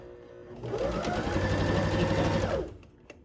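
A sewing machine runs a simple straight stitch on skirt fabric, a steady close whirring that starts abruptly, holds for about two seconds, then winds down and stops, with no talking over it.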